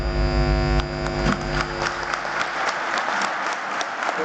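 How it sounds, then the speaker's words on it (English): An audience at a college induction program bursts into applause for a distinguished guest, dense clapping that fades out after about two seconds, with a steady electrical hum underneath. "Please give a huge round of applause"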